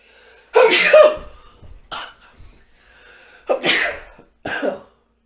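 A woman sneezes twice, each a loud, sharp burst with a breathy intake before it, separated by a few seconds of near silence.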